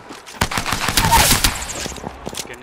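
Rapid gunfire in the video game Apex Legends: a dense fusillade of sharp, loud shots crackling over a couple of seconds, with a brief whistling tone in the middle.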